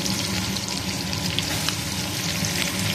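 Chopped onions, large pieces, tipped into a pressure cooker and frying steadily with a dense, close sizzle and faint watery crackle throughout, no talking.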